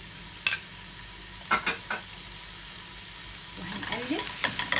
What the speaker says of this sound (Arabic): هنحط برضو معلقتين زيت كده اهو، وبعدين هننزل بنص راس الثوم بتاعتنا اهي